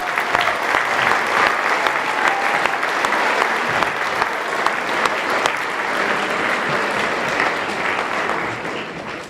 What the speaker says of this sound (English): So let's give Scott a round of applause.